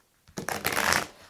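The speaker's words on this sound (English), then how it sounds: "So they want them shuffled." Tarot cards shuffled in a quick riffle, a brief close burst of papery flutter lasting under a second, with no talk over it.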